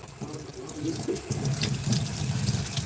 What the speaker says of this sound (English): you got to push all the water that's saturated in the roller out